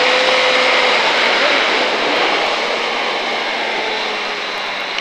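A 2005 KTM Superduke motorcycle accelerating hard on a run at Pau, producing a loud, sustained, close engine roar that holds steady with a slight fade toward the end, with no talk over it.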